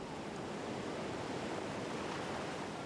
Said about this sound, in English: This is mile 179, Lava Falls Rapid.